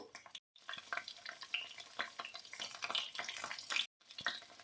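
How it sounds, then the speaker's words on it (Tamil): Eggplant sautés in oil in a pan for a curry, making a close, crackling sizzle with busy stirring scrapes that cut out briefly twice, and no one speaks. "இன்னும் கொஞ்சம் நல்லா வதங்கட்டும்"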